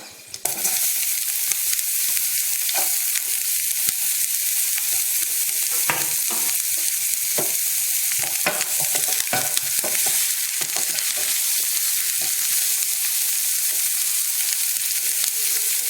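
Small onions fry in hot oil in a pan, a dense, continuous crackling sizzle that starts abruptly and stays close and loud, broken by occasional sharper pops and utensil scrapes.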